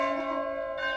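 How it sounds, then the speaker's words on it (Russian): Church bells in Montenegro ring with a sustained, humming tone that holds steady, then a fresh strike sounds near the end, fairly clear with no talking. "У нас тут музыки не будет в этом видео, но зато будут колокола."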